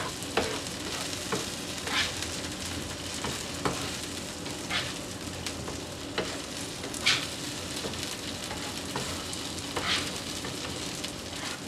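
Oiled food sizzles on a hot breakfast grill, a constant crackling hiss broken by several sharper pops and spatters spread over the stretch, fairly close with no speech.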